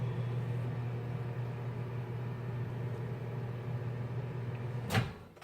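Microwave oven running while melting chocolate: a steady low hum with soft fan noise continues throughout, ending in a short sharp clack like the door opening near the end.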